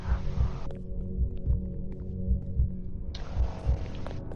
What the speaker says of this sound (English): Because we hear heartbeats.